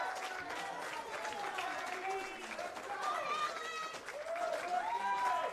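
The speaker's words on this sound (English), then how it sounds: "Crowd really getting into this matchup here." Crowd at a live pro wrestling match cheering and clapping as a steady roar, heard fairly faintly beneath other sound, with a voice likely talking throughout.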